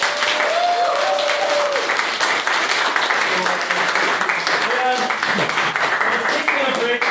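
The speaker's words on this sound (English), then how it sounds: "end the night with a round of applause for Mr. Ben Murphy" A room full of people claps in sustained, dense applause at the close of a society's annual general meeting, steady throughout, with a voice speaking over it at moments.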